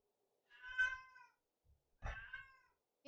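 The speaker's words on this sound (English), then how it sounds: "Can you hear my cat?" A pet cat nearby meows twice, a long rising-and-falling meow followed after a pause by a shorter, rougher one, clear against near silence.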